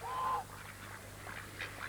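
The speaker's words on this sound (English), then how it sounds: "Sounds as if all the geese and ducks are giggling too." Geese and ducks calling together at a farmyard feeding, a nasal honk standing out at the start and then softer quacks and honks scattered over a low steady hum, moderately close.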